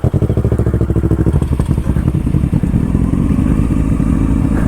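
A new Yamaha R1 sportbike engine runs close and very loud, starting with a rapid, throbbing pulse that smooths into a steady, heavy drone.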